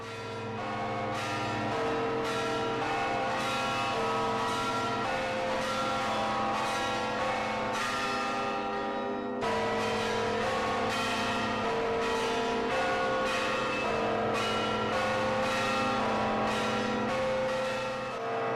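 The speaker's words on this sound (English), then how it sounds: "They ring the bells here at the old church every day at 8 o'clock and 4 o'clock" Church bells ringing in the belfry of the Old Church in Kazakhstan, many bells struck in quick, layered rhythmic peals, very loud and close, sustained clangs overlapping throughout with no talking.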